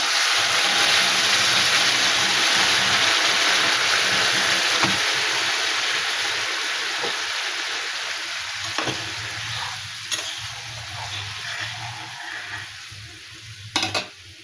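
Fried taro, potatoes and spices sizzling in a pan as hot water goes in, a loud hiss that gradually softens and settles, with a few sharp utensil clinks near the end.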